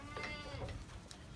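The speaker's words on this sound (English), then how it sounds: "Oh, that's a little orphaned baby goat." An orphaned baby goat on a farm where calves are fed, bleating in a couple of short, close, wavering cries, fairly soft, with no talking.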